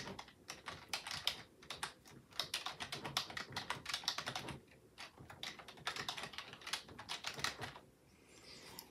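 Typing on a computer keyboard, entering a quote as text for a Cricut sticker design: rapid, close bursts of light key clicks with short pauses between phrases, quiet and alone without talk.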